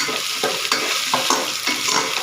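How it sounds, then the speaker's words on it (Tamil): Ginger garlic paste and onions sautéing in a pan, a close sizzle broken by rhythmic spatula stirring strokes, with no talking. "இஞ்சி பூண்டு பேஸ்ட் நல்லா வதங்கட்டும் வெங்காயமும் நல்லா சேர்ந்து வதங்கட்டும்"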